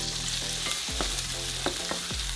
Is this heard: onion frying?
yes